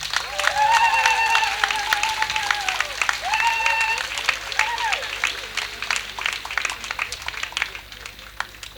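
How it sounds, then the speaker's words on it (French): A congregation at a Chrism Mass in the Diocese of Abengourou applauding the priests, loud sustained clapping that thins toward the end, with voices calling out and singing over it. "je vais vous demander d'acclamer, d'applaudir vraiment les prêtres qui sont là"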